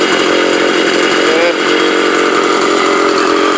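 A Stihl 027 chainsaw motor runs smoothly in a shop, a loud, close, steady buzzing drone that holds an even pitch for the whole few seconds.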